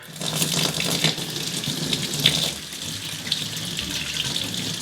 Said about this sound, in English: So I'm going to get this water as hot as my hands can tolerate.